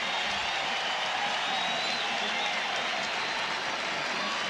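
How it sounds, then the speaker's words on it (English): Large baseball stadium crowd at the 1987 All-Star Game, a dense, steady roar of cheering and applause filling the whole stretch, broad and loud throughout without pauses. "Listen to the crowd. Yeah, they love it."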